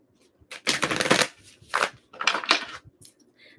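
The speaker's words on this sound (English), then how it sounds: "Let's shuffle a little bit more." Several quick riffling bursts of tarot cards being shuffled, close and crisp, with short pauses between them and no talking.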